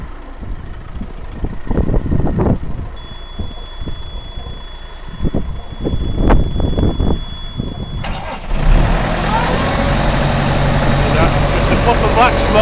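A Carrier refrigeration unit's diesel engine cranks after some nearby knocks and a voice, then fires and settles into a loud, steady close-up running rumble with a whine over it.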